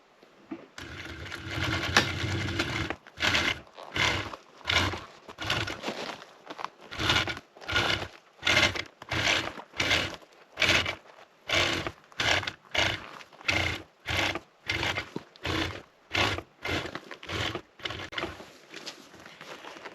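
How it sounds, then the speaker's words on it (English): A sewing machine fitted with a piping foot sews a boat seat cover, running in many short, rhythmic bursts separated by brief pauses. It stays close and loud throughout. "When using the piping foot, I don't need the magnetic sewing guide to give me the 1/2 inch."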